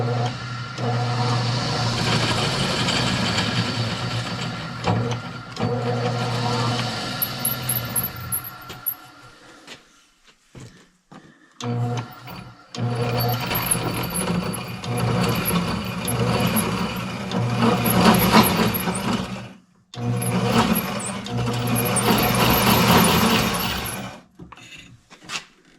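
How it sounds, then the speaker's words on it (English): A hole saw cuts a semi-circle into a steering part for a 1965 steering modification, a loud grinding whir that runs in bursts with short pauses between passes. "semi-circle out of there with a hole saw, which isn't probably going to be great"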